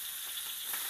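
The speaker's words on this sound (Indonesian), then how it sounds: "Lanjut kita masukkan kangkung" Water spinach stir-fried in a wok with shrimp and meatballs gives a steady, close sizzle with a faint stirring scrape, with no other sounds over it.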